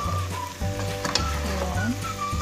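Ingredients for Machboss laham, an Arabic meat dish, being mixed in a sizzling pan, with a constant frying hiss under the scraping and stirring of a utensil.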